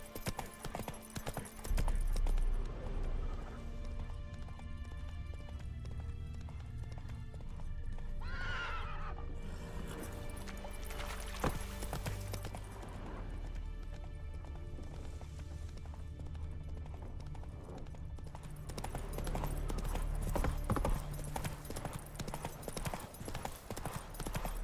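Roach, Geralt's horse in The Witcher 3, gallops with rapid rhythmic hoofbeats that run throughout, broken by a clear neigh partway through, amid game ambience.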